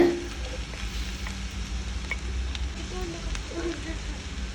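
Chopped onion, red capsicum and a ginger, garlic and green chilli paste fry in coconut oil for a squid pepper roast. A low, steady sizzle runs throughout, fairly quiet, with faint stirring knocks.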